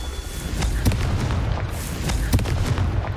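A Confringo fire spell in Hogwarts Legacy bursts against rocks, giving loud booming blasts with two sharper detonations about one and a half seconds apart over a constant roaring rumble.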